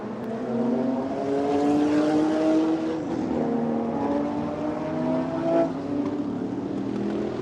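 Vintage Le Mans race cars driving on a track at a motorsports reunion, engines droning and shifting pitch as they pass at moderate distance, overlapping and continuous.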